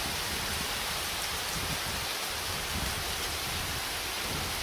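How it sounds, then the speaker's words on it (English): Heavy, soaking rain pours steadily in a desert setting at Sierra Baja, a dense continuous hiss filling the air with no voices. "The thick soaking rain."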